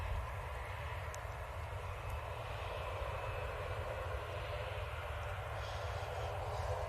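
A constant, moderately loud jet roar from a six-year-old Boeing 787-9 Dreamliner at Manchester Airport, a smooth sustained rumble with no speech over it.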